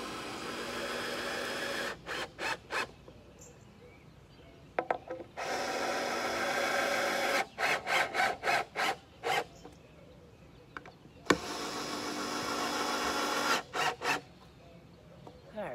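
Screws being run into a wooden shutter with a power driver: three long sustained whirring bursts, each broken by short stuttering pulses as the screws snug down, with quiet pauses between them.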